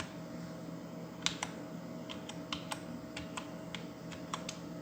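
Sparse, separate keystrokes on a computer keyboard while entering a loan amount into an Excel spreadsheet, clicking crisply over a steady low background hum with no talking.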